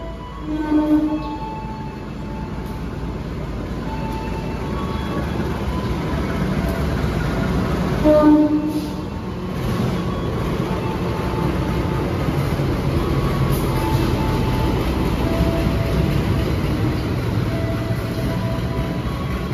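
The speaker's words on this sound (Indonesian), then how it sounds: "Sudah ada pengumuman Progo masuk jalur 3 ya teman-teman." Progo economy train pulling into track 3 at a busy station, a steady low rumble of rolling stock that swells briefly around the middle, with faint station murmur behind it.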